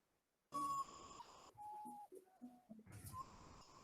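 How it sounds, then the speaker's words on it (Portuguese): A common potoo's mournful tonal calls, a few sustained notes stepping downward with pauses between, clear against a quiet night background in the Pantanal. "O Urutau, ou Mãe da Lua, é um pássaro que carrega muita superstição."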